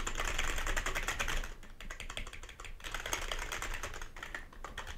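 Typing on a Piranha RGB gaming keyboard, a steady dense stream of close, crisp keystroke clicks with brief pauses, no voices.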